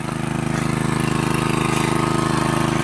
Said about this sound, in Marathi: हे इंजिन आहे